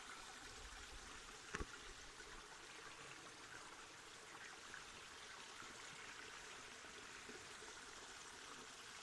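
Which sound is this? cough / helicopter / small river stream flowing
small river stream flowing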